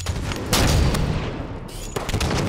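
Gunfire in the video game Halo 5 during an Anniversary playlist match, a dense, loud stretch of booming shots and blasts layered over continuous game noise, with a couple of stronger reports standing out.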